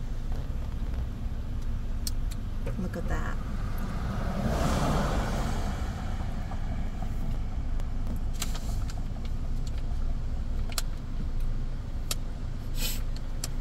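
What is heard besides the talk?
road traffic, cars driving along the coast at Big Sur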